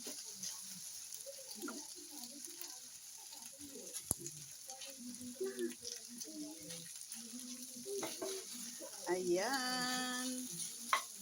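Tocino sizzles and crackles steadily in a hot pan, with people talking quietly over it and occasional clinks of a utensil.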